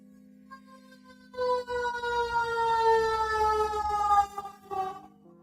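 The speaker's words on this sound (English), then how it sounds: "Oh, here come the sirens." A wailing siren rises and holds a steady tone, fairly loud, then dips and cuts out briefly before sounding again near the end.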